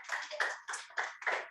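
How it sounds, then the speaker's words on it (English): Church congregation clapping hands together at the close of a worship service, a dense burst of applause swelling in several waves, fairly close and full with no talk over it. "Can we give a big clap of hands to the Lord?"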